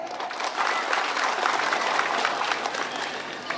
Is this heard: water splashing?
no